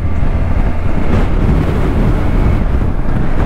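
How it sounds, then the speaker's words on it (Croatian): Heavy, loud wind roars across the microphone while riding a motorcycle on an open road in northern Croatia; a constant, dense buffeting rush that drowns out everything else. "taj vjetar ne radi nikakve probleme"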